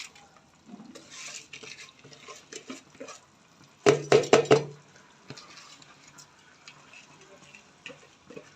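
Rice is poured and stirred into a pot of potato and pea pulao, giving a short burst of scraping and rattling in the middle, set among softer stirring and kitchen clatter.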